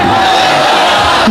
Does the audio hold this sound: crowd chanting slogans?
yes